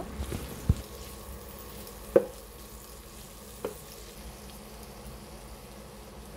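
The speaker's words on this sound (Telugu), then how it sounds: "ఇందులోనే 1 స్పూన్ వరకు అల్లం వెల్లుల్లి పేస్ట్ అయితే వేసుకుని బాగా వేగనివ్వాలి 2 నిమిషాల పాటు" Ginger garlic paste fries in a pan with a low, even sizzle, punctuated by a few sparse spoon knocks against the pan.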